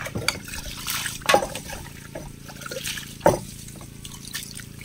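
Water is poured and trickles in a household in the Philippines, with a few splashes and gurgles standing out over a low background hum.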